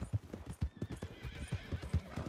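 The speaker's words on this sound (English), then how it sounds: "That's my horse." A horse in the video game Red Dead Redemption 2 gallops in an uneven series of hoof clops and lets out a high whinny, fairly close and faint, with no voices.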